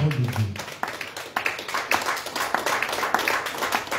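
A church congregation claps and applauds, a dense run of overlapping hand claps with a voice speaking at the start.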